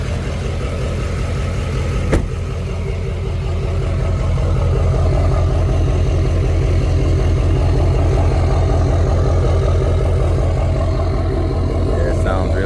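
A customized truck fitted with extra lights and towing mirrors idles steadily and loudly nearby, a continuous low rumbling drone with an even pulse throughout and one brief sharp click early on.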